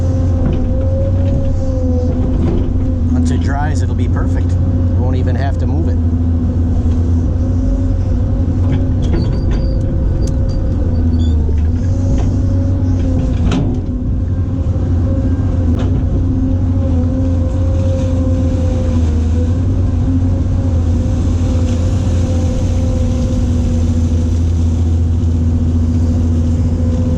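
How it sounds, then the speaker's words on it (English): A dump truck moving dirt runs with a loud, steady diesel engine drone and a strong low rumble, with occasional rattles and clanks over it and no talk. "this clip here will give you a good idea of how long it takes me to move dirt with this dump truck"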